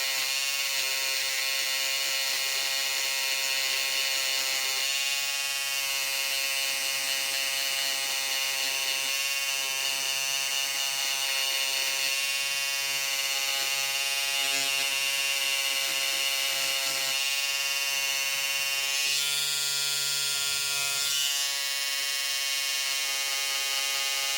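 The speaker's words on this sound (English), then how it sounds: "just kind of gently rub it back and forth, and it's breaking the stitches." An electric embroidery-removal tool is rubbed back and forth over the stitching on a shirt to break the stitches, giving a continuous high-pitched buzzing whine that stays close and steady throughout, with slight shifts in tone.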